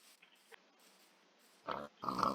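Pigs oink and grunt in a seasonal-mod survival video game, two short bursts near the end of the clip after quieter, faint game sounds, with no talking over them.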